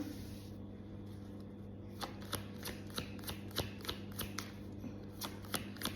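Tarot cards are shuffled and drawn by hand, with a soft riffle giving way to a quick run of crisp, close card snaps. The handling sounds quiet, with a low steady hum behind it and no talking.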